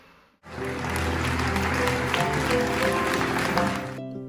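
An excited sold-out audience at the Wood Theater breaks into loud, sustained applause, a dense roar of clapping that swells in suddenly after a short silence and carries on steadily before cutting off.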